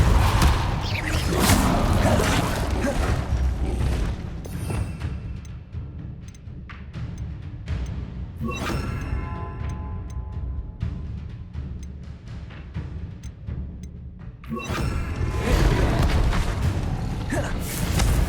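Confringo and Depulso spell blasts in Hogwarts Legacy, a loud burst of crackling magic at the start, then booming impacts and whooshes separated by quieter stretches, with a final surge of blasts near the end.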